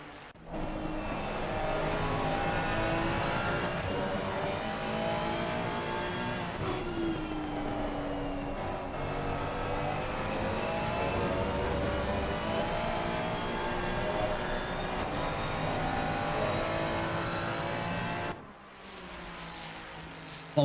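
Two Ferrari race cars battling at speed at Spa, heard from onboard: a loud, sustained engine roar with shifting harmonic pitch through corners and gear changes, cutting off briefly near the end before resuming.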